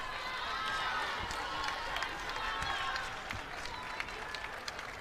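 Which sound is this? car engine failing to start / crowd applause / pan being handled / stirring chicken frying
crowd applause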